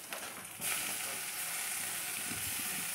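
Chopped tomato hitting hot oil in a vegetarian banana flower and potato curry, giving a sudden sizzle that settles into a steady, close frying hiss.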